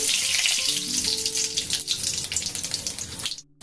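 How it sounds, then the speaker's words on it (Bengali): Poppy seeds and nigella seeds fry in hot oil in a wok, giving a steady, close hiss of bubbling oil that runs almost the whole time before dropping out abruptly near the end. "তেল গরম হয়ে গেছে, দিয়ে দিয়েছি একটু পোস্ত, একটু কালো জিরে"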